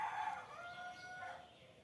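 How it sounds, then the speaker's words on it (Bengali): A neighbouring rooster crows once on a foggy early morning, a clear, drawn-out cock-a-doodle-doo at moderate distance over a faint background hiss. "পাশের বাড়ি মোরগটা ডাকছে,"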